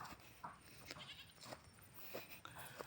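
A goat bleats several times in short, separate calls spread across a few seconds, faint and somewhat distant over a quiet outdoor background.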